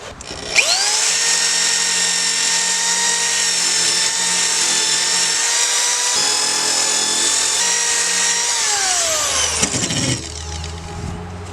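A power drill whines at a steady high pitch for about ten seconds, loud and close, then winds down and stops.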